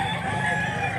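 A 14-month-old rooster of about 2 kilos, shown for sale in Mantalungon, Cebu, crows in one sustained, fairly close call that holds steady for about a second.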